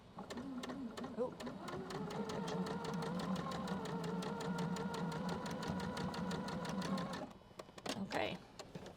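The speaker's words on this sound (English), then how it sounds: "I'm going to try to sew right through it" A sewing machine stitches through bulky quilt seams where pieces meet, a fast, even mechanical chatter running close and loud for about seven seconds. It stops abruptly, followed by a few faint handling noises and a brief voice.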